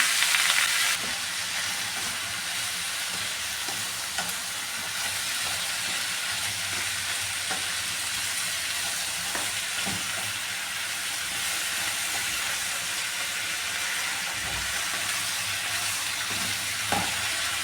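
Curry leaves, salt and breadfruit for a Kerala-style roasted-coconut curry fry in a pan, giving a steady, even sizzle with occasional soft stirring knocks, close and continuous.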